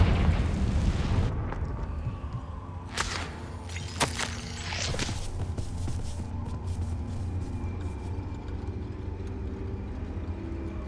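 In the Hogwarts Legacy video game, a Confringo explosive spell goes off with a heavy booming blast, followed by sharp cracking bursts and a rumbling tail.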